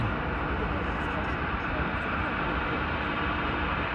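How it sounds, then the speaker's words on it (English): Qantas Airbus A330 departing Sydney on runway 34L, a steady broad jet roar heard from a distance, constant and unbroken with no distinct events. "we'll get the next one, which is the Qantas A330"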